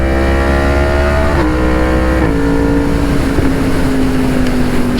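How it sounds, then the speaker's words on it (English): A Yamaha MT-10 motorcycle with a loud aftermarket exhaust howls close by, its engine note rising then dropping sharply at each gear change, several shifts in quick succession. "Just the sound of gear shifting just sounds just insane."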